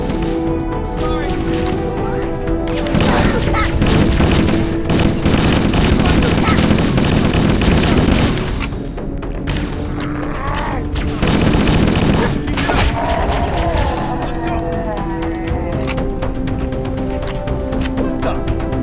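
Rapid gunfire and explosions from the video game Halo: Combat Evolved crackle in dense, loud bursts throughout, with brief lulls, while players talk over the action.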